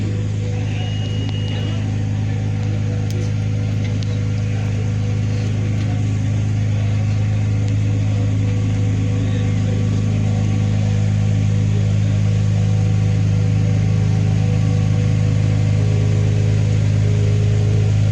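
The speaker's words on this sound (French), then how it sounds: "La F80 qui fait son entrée dans les paddocks." Ferrari F80 supercar rolling into a paddock, its engine a steady, loud, low hum held throughout with little change, while background crowd noise murmurs faintly.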